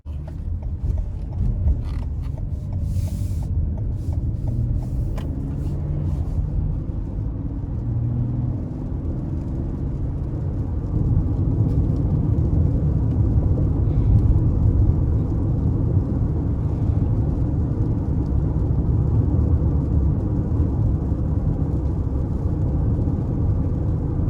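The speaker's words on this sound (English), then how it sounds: "now it's time to go ahead and take this Highlander out on the road for a test drive" Low steady road rumble and engine hum inside a 2020 Toyota Highlander LE on a test drive, continuous and even throughout with faint creaks and light clicks, and no talking.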